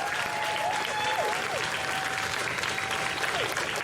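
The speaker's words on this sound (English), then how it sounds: "a big round of applause to our trans elders" An outdoor crowd at the Trans Pride March in Melbourne applauds steadily, sustained clapping with cheers and whistles over a dense crowd murmur, with voices audible throughout.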